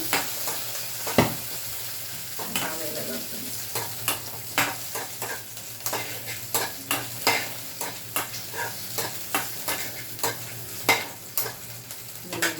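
Stir-frying chutney ingredients in a pan on a low flame: regular spatula scrapes and clinks against the pan, repeating every half second or so over a low frying hiss.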